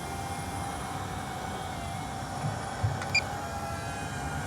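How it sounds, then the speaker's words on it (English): A small drone flies into a church building to clear the rooms during a tactical security demonstration, giving a steady, close whirring hum that runs throughout with a few brief clicks near the end and no talking. "Now we're gonna send the drone in to go clear inside."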